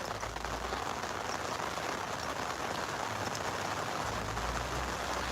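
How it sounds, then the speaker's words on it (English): Steady rain falls and patters on surfaces outdoors, a dense, even hiss that continues without a break, with no voices. "Oh, it's raining again."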